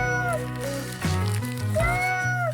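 A voice imitates a cat, giving drawn-out meows with rising and falling pitch, close and loud, several in a row.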